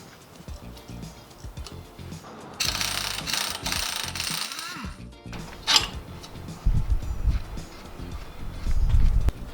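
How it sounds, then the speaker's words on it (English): A ratchet wrench with a 19mm socket loosens the sway bar end link on a Toyota Tacoma front end, giving repeated clicking pawl ticks in bursts, fairly close and clear, with bangs and shop clatter between strokes. "Next, we'll have to undo that sway bar end link. And this one is a 19mm socket."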